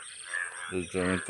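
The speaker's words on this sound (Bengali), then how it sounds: "পুরো ব্যাঙ ডাকছে" Frogs croak in a waterlogged farm field, a series of loud, buzzy, pulsing calls close by with insects chirping faintly behind, while a person speaks briefly.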